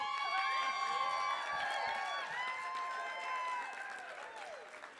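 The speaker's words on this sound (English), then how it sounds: "I would like everyone to give a round, loud, raucous applause for Kari Havdi." A benefit show crowd gives a standing ovation with applause and whoops, the clapping blended under high, tonal cheering and shouts that taper off toward the end.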